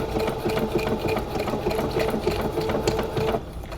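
A home sewing machine stitches continuously at a steady, fast rhythm, close and fairly loud, its motor hum and mechanical rattle running uninterrupted with no talking.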